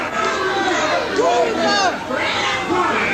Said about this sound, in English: The crowd begins chanting Bruiser and Andre.